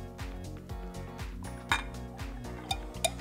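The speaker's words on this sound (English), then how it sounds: "Give it a nice stir." Ice and liquid clink against a glass pitcher as a cocktail punch with Campari and red sweet vermouth is stirred, giving several quick, bright, rhythmic taps that are close and fairly quiet, with no voice.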